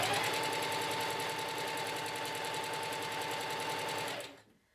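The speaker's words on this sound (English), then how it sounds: "make sure everything is in, and then sew" A sewing machine runs a short stitch along a double-folded dress hem, a close, steady rapid mechanical whirr and clatter that holds evenly for about four seconds before winding down and stopping.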